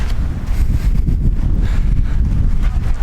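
Strong wind on the Angels Landing trail in Zion National Park buffets the microphone, a loud continuous roar and rumble that gusts unevenly throughout, with no voices.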